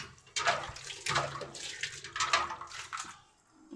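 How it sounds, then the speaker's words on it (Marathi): Water splashes and gurgles in several uneven pours as a vessel is rinsed, close and moderately loud, with no talking. "याला मी आधी स्वच्छ पाण्याने असं धुवून घेणार आहे"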